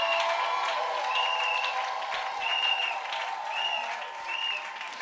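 Audience applause at a church ceremony honoring pastors and a prophet, a steady crowd clapping that carries on for several seconds, heard from inside the hall with little cheering.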